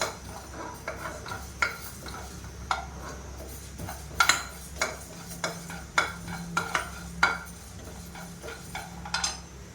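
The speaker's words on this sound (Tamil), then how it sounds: "இதை வந்து ட்ரை ரோஸ்ட்டாக எடுத்துக்கலாம். எண்ணெய் ஊற்ற வேண்டாம்." Lentils dry-roasting in a pan without oil for parupu podi, giving repeated scraping stir strokes and light clinks of a utensil against the pan, close and moderately loud, with no talking.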